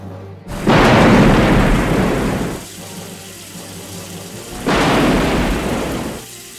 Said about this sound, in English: Soon enough, a big rainstorm was raging across the coast.